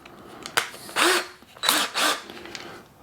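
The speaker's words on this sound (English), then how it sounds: "I just got a little tiny drill bit" A power drill with a tiny bit pre-drills a screw hole during assembly of a Onefinity QCW frame, with three short whirring bursts close by, separated by brief pauses, and no talk.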